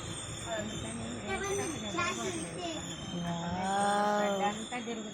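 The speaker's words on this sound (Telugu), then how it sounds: "ట్రైన్ ట్రైన్ ఆగిపోతుంది ఆపేస్తుంది కాసేపు" A train near Tirupati rumbles and slows, its wheels giving off rising metallic squeals and harmonic whines as it grinds toward a halt.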